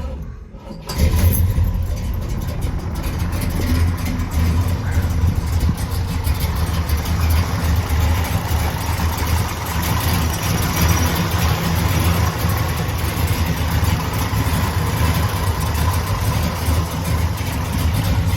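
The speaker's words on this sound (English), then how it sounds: "I'm going to put it here in neutral so we can hear how she fires up." A 1970 Chevrolet Chevelle SS 454 V8 cranks and catches after a second of quiet, then settles into a loud, rumbling, throaty idle that continues steadily.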